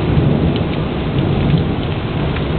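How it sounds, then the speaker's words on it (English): Heavy rain pours steadily with a low, continuous rumble of thunder underneath, loud and unbroken throughout. "it's just continuous thunder. Like non-stop thunder."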